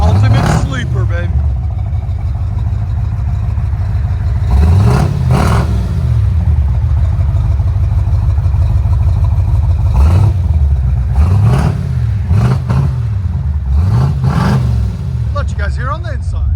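1975 Chevy Caprice wagon V8 with headers revving close by, a loud rumbling idle punctuated by repeated sharp throttle blips that rise and fall, under enthusiastic talk.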